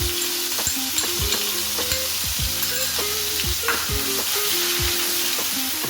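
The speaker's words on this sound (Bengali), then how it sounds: "ভালো করে এটাকে পেঁয়াজটাকে আমি ভাজবো" Ground onion paste, made from two blended onions, fries in oil for a tel koi fish curry, with a steady sizzle beneath repeated scraping strokes of a spatula stirring the pan, close and fairly loud throughout.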